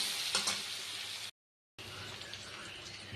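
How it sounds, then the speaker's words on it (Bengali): Omelette curry ingredients frying in a pan with capsicum, salt and turmeric, a close steady sizzle with a few stirring scrapes, briefly cut to silence midway before the sizzle resumes, no talk. "এবার এটা একটু লাল করে ভেজে নেব।"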